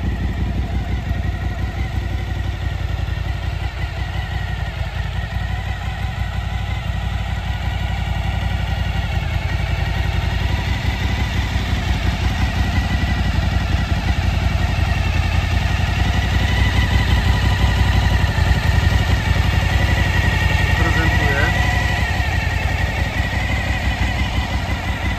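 A 2014 Suzuki DL 1000 motorcycle fitted with a DB Killer exhaust insert idles steadily and close, its deep, even engine rumble continuous and alone throughout.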